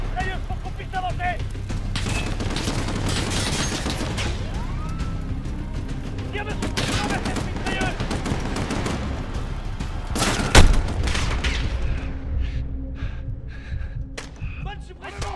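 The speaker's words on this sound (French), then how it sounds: "Tire le mitrailleuse pour qu'on puisse avancer !" Machine gun fire rattles through a Call of Duty: Modern Warfare battle, dense continuous bursts and booms filling the scene with shouting voices over it, a sharp loud crack near the middle, then thinning into scattered shots.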